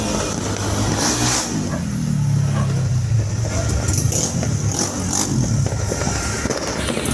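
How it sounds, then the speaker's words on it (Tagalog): Scattered New Year fireworks bursts pop in the distance over a steady rumble of engines and crowd noise, with a few sharper cracks standing out. "may fireworks dun"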